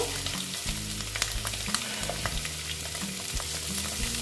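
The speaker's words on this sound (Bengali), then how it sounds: "ডিমগুলো প্রায় ভাজাই হয়ে গেছে" Eggs frying in oil in a pan, a dense continuous close sizzle and crackle with occasional stirring scrapes, steady and fairly loud, no talking.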